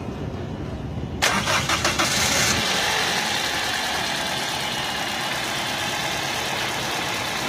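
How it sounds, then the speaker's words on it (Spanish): Toyota Corolla engine, just repaired after a cylinder head job, cranks and catches, then settles into a steady, even idle heard close by for several seconds, with no knocking and no talk. "Vamos a hacer el encendido del vehículo para que miren ustedes cómo quedó."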